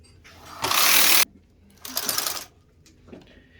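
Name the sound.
knitting machine carriage moving across the needle bed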